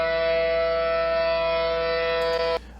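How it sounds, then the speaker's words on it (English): Sustained wail of a tornado siren sample, a steady loud multi-pitched tone holding evenly for about two and a half seconds before cutting off abruptly. "isolate certain pitches from the tornado siren"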